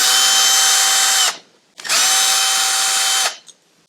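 Power drill backing screws out of a KTM 1290 Super Adventure S motorcycle during a strip-down, two loud, steady whirring bursts of about a second and a half each with a short pause between, close up.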